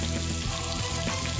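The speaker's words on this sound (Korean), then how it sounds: "양념 속에서 지글지글 익어가는 삼겹살의 자태를 보라" Pork belly cooking in red gochujang sauce sizzles and bubbles steadily at close range, a dense continuous frying hiss with no talking.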